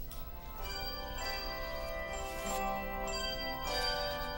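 Handbells rung by the Blue Ridge Bells, a youth handbell choir from the C.F. Richards Academy, producing sustained, overlapping ringing tones with fresh strikes layered over one another throughout.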